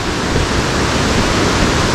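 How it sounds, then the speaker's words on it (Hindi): The rain-swollen Tons River rushes below a small bridge in Uttarakhand, a loud, dense, continuous roar of churning whitewater heard close and steady without pause. "ये नीचे देखो टोंस नदी का विकराल रूप बारिश की वजह से"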